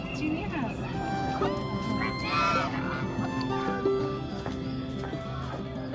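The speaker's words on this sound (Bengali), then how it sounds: "চীনা হাঁস।" Chinese geese honking at an ashram near Bandel, a few calls rising over a busy, steady crowd and ambient din, with people talking throughout.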